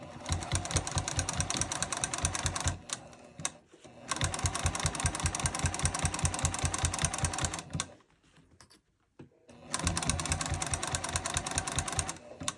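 A sewing machine stitches fabric at a 3.5 stitch length in two long steady runs of fast rhythmic needle thumps, close and loud, separated by short pauses, with no speech.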